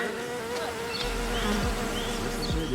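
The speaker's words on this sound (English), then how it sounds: "Leave those bees alone, Beyonce." Bees buzz steadily and close by, a continuous droning hum of many insects with no talk over it, outdoors in Houston.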